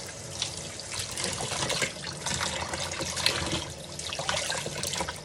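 Tap water runs steadily while a wig is rinsed of shampoo, a close, continuous splashing trickle with uneven gurgles as hands move the hair under the stream.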